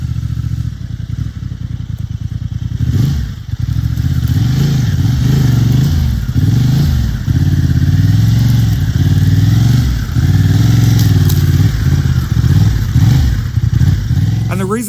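A Honda Transalp 750 motorcycle idles and putters at low speed over technical off-road terrain, its engine loud and close with uneven throttle blips and clatter, while a rider talks throughout.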